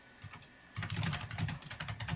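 A computer keyboard clatters with rapid, uneven keystrokes, fairly faint and slightly distant, with a pause before a denser burst of typing continues steadily.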